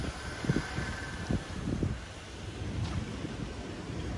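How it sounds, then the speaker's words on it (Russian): Strong wind buffets the microphone outdoors under a dark sky, with a constant hiss broken by several gusty thumps early on, then a steadier rush, no one talking. "Смотрите, какой ветер, небо темное."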